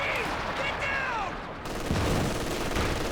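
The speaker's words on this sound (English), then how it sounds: "There goes the machine gun." Machine-gun fire in the video game Company of Heroes 2, heard as a dense, steady rattle of battlefield shots with talk running over it.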